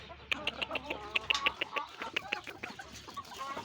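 Several chickens cluck in short, irregular bursts close by, with a faint background hum.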